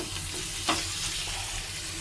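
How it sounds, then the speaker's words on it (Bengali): Loitta (Bombay duck) fish jhuri being stirred in a pan, the fish cooking in its own released water with no added liquid; a continuous soft sizzle with a single scraping stir stroke, close by and without talk. "এবার আবার একটুখানি নাড়িয়ে নেব, যাতে নিচে লেগে না যায়"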